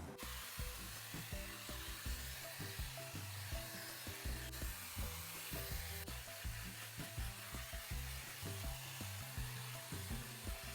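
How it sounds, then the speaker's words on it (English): A Shark FlexStyle hair dryer with a diffuser attachment drying gel-set curls, a steady close airflow roar running the whole time with light rhythmic handling clicks and bumps, no talking. "Drying the gel to set those curls into place."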